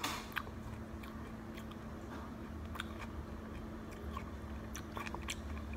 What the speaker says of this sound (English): I'm eating a chunk of watermelon.